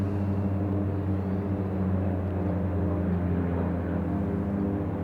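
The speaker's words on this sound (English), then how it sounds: "I got so many planes." Steady, continuous engine drone of airplanes flying overhead in Vancouver, a loud low rumble holding evenly throughout with no speech.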